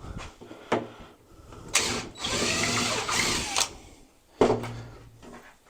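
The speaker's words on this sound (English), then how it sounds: "Drill a hole." A power drill whirs briefly, then bores into wood for about two seconds, with a clunk before and after, close and fairly loud.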